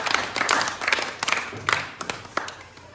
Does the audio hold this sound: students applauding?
yes